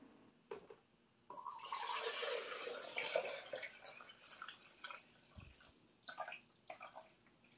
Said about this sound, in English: I fill the water up to the 10 mark.